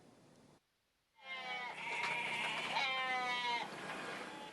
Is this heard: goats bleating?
yes